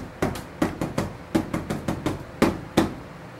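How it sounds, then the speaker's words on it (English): Stretched parchment, sanded and re-wetted and now drying, is tapped about eleven times in an uneven rhythm, each stroke a short, hollow, drum-like knock close by with no talk. "Beautiful drum sound."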